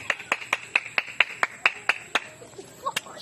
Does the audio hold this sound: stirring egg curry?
no